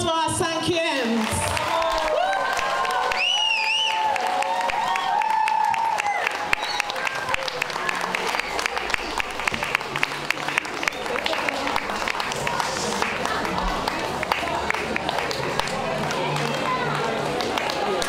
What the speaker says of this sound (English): A round of applause for our 5e's.